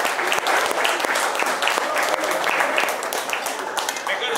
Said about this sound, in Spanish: El aplauso para Chacho